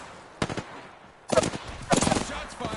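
Short bursts of video game gunfire crack out during a team shooter session, one brief volley early then louder, denser rattling bursts that come in clusters, with faint background noise between them.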